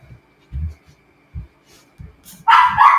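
A dog barks inside a home, a few muffled low barks spaced apart, then a louder, sharper burst at the end.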